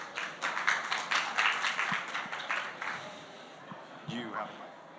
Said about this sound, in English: Could I get a round of applause for Lloyd